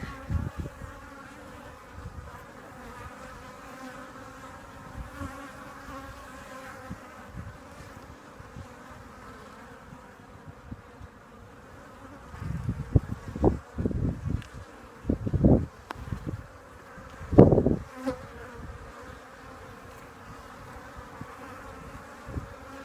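Honey bees buzz around an open hive during a spring inspection, a dense continuous drone close by with louder passes as individual bees fly near, and no talking.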